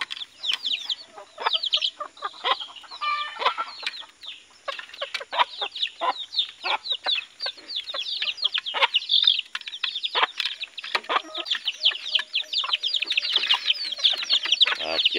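Red junglefowl (labuyo) and bantam chickens cluck steadily while feeding, a dense run of short, close clucks and chirps with bursts throughout and no talk.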